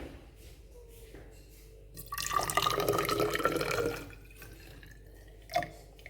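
Water from a soil sample drips into a measuring cylinder during a school water-holding-capacity experiment, with faint drips, then a louder trickling burst of a couple of seconds, and a single final drop afterward.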